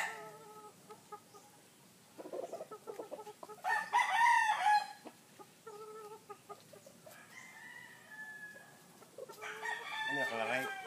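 A rooster crows loudly twice, with hens clucking in between in a farmyard; faint voices murmur in the background.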